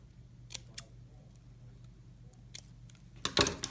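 Scissors snip through a palm frond while its ends are trimmed and tapered into a rosette for Palm Sunday. There are several sharp, separate cuts, with a louder cluster of snips near the end against a quiet background.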